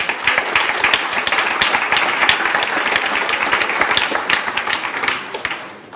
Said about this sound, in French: je vous demande d'applaudir pour le remercier